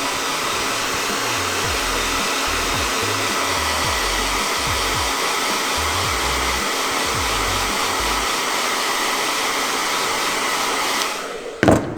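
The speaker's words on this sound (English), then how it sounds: "Get your blow dryer." A blow dryer runs continuously at close range on hair styled with Bold Hold Active Burst product, a steady loud whooshing drone that cuts off abruptly near the end.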